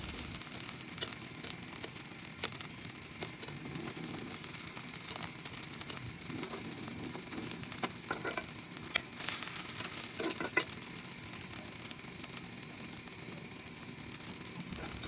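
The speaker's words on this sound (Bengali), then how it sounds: "আর ডিম ভাজতে একটু তেল দিলে ডিমটা ফোলে ভালো" Eggs fry in oil in a pan for a Bengali egg curry with tomato, giving a steady, moderately loud sizzle with faint crackles and occasional louder pops, and no voices.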